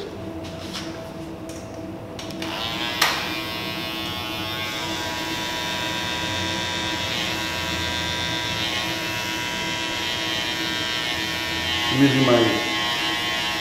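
Andis cordless hair clippers hum steadily through a barber's 360 wave haircut, a close, constant buzz that starts after a couple of seconds and runs beneath a man's speech.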